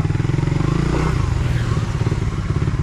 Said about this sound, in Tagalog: Nandiyan ang motor niya.